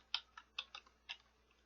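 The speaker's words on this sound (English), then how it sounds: "For example, I'll type in" Quiet keystrokes on a computer keyboard as a short word is typed, about six soft clicks spaced unevenly over under two seconds.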